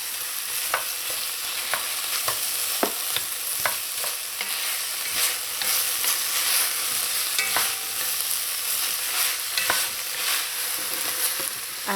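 Vegetables and boiled pigtails sauté in a pot with a constant close sizzle, broken by scattered clicks and scrapes as they are stirred.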